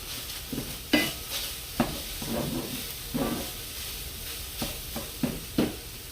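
Hamburger meat cooking in a pan with pressed garlic, a soft steady sizzle broken by repeated spatula scrapes and stirring knocks at an uneven rhythm, fairly quiet and close.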